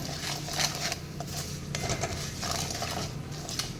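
Chutney ingredients for a crisp ridge-gourd peel chutney are mixed with salt and sugar in a pan, producing continuous close clattering, scraping and stirring sounds against a low background hum.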